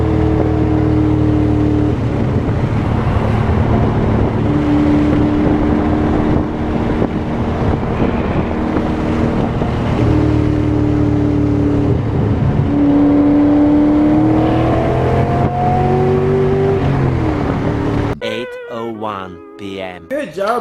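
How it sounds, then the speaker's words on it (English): A Nissan 240SX engine revving hard against the rev limiter, a loud, sustained engine roar with stepped pitch changes and a rise near the end before cutting off abruptly, with wind buffeting and voices. "that got the rev limiter"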